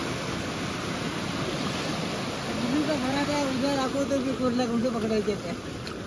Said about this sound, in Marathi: जोरदार पाणी आलंय आता.